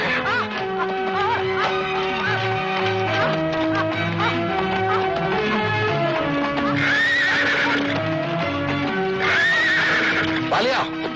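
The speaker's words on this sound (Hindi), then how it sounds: "बड़ा खूबसूरत घोड़ा है। किसका है?" A horse in a Hindi film scene neighs twice in loud, rising whinnies, with hooves clip-clopping throughout, all layered under a busy soundtrack.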